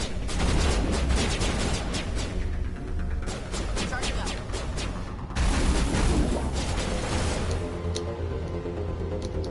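Dense gunfire and booming shots in the sci-fi shooter Mass Effect 1, including sniper fire, running loud and continuous over a rumbling game soundtrack with a brief lull midway.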